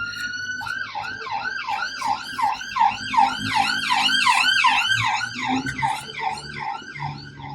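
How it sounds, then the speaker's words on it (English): A wailing emergency siren sweeps up and down steadily, growing louder then fading slightly as it passes, with faint background rumble and no speech. "we just had a siren pass by"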